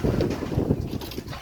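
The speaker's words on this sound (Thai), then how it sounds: "มืดลมมาแล้ว ตกตลอดเลยฝนนี่เนาะ" Gusty wind roars against the microphone as a storm darkens the sky just before heavy rain, a steady loud low rumble with buffeting surges throughout and no talking.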